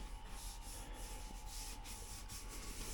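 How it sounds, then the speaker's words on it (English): Steady abrasive rubbing of sandpaper over a 2017 VW Tiguan body panel, continuous scratchy hiss with rhythmic strokes, close and fairly quiet. "This needs more sanding, that needs more sanding"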